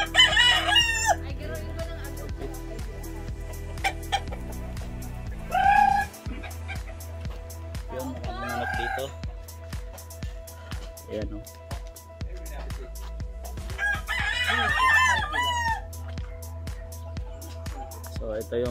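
Backyard chicken coop where several roosters crow in repeated loud calls, with clucking and a low motor hum underneath, while people talk nearby.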